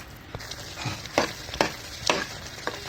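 Semolina roasting in ghee in a pan for upma, stirred in steady strokes that scrape and swish about five times over a soft, continuous sizzle, close up with no talking.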